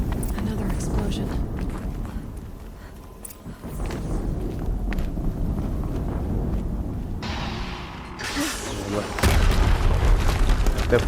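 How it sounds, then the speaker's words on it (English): Explosions in the video game Horizon Zero Dawn: deep booms in a dense, busy battle mix, with a heavier blast near the end. People talk throughout. "Another explosion."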